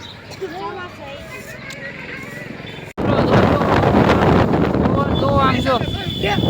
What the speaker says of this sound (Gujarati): પવન જો મિત્રો પવન જો વાવાઝોડા જેવું આવા ઉનાળામાં